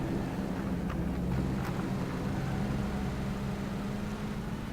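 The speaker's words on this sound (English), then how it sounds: "He hears the engine but decides to ignore Furious right now." A vehicle engine drones in the PUBG Battlegrounds video game, a steady low hum with a rough rumbling layer, fairly faint and unbroken, with no voices over it.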